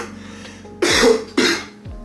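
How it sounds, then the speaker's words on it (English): A man with a persistent smoker's cough coughs hard twice in quick succession, each harsh, loud bark close to the mic and fading out raggedly. "I can't stop coughing."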